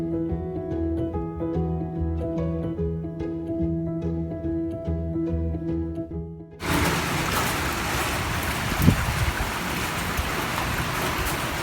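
Music plays, then cuts to a loud, steady roar of heavy rain and gusting wind on a cold Canadian summer day that continues to the end.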